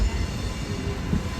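An oncoming train hauled by a high-pantograph electric locomotive near Rajkot Junction on the Jetalsar line, heard as a steady, loud, dense rumble of rolling wagons with faint wheel squeal and no voices.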